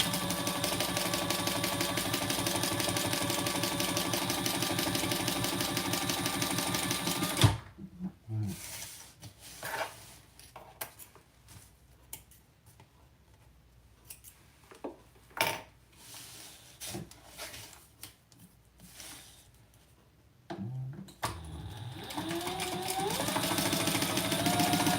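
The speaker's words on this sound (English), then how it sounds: "we're going to sew down those 2-inch marks that we made" A sewing machine stitches down fabric marks in a quilting workshop, running steadily and loudly for several seconds, then giving way to quiet rubbing and handling of cloth before the motor starts up again near the end.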